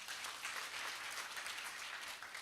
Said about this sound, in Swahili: Unapiga makofi staff.